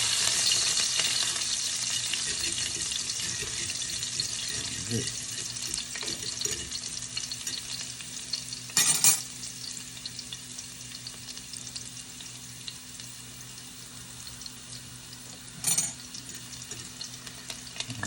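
Fresh thyme and garlic frying in hot oil in a frying pan make a steady, close sizzling hiss that runs throughout, broken by a few sharper spatter bursts, with no talking.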